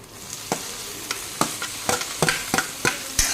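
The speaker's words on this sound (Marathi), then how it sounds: "आता यामध्ये मी टमाटर घालत आहे" Tomatoes drop into a frying pan of sizzling green chillies, giving a steady low sizzle broken by a series of sharp scraping and stirring clicks about every half second, close and fairly loud, with no talking.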